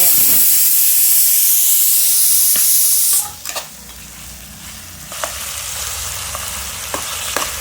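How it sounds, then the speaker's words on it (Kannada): Onions and tomatoes frying in oil, a loud close hiss and sizzle that drops sharply partway, leaving a quieter simmer with occasional clinks and stirring taps. "ಸೊ ಇವಾಗ ಆನಿಯನ್ನು, ಟೊಮೊಟೊ ಎಲ್ಲ ಚೆನ್ನಾಗಿ ಫ್ರೈ ಆಗಿದೆ."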